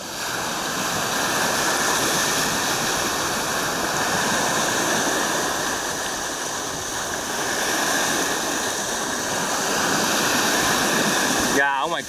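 Rough sea waves break close to the shore where a heavily loaded boat is heading out, a loud continuous roaring wash of surf with no clear pauses.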